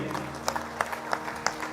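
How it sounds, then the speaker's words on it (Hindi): Audience applause at a formal gathering honoring the chief guest, Fiji's Deputy Prime Minister and Finance Minister Professor Biman Prasad, a brief burst of scattered clapping at moderate distance. "मैं चाहूँगा एक ज़ोरदार ताली हमारे मुख्य मेहमान के लिए"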